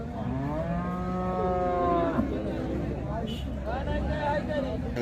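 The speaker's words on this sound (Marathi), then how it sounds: "तर ही पण एक गाय आहे, इथं बांधलेली आहे" A Khillar cow bellows two drawn-out moos, one early and one near the end, at the Sangola cattle market, over a low murmur of people talking nearby.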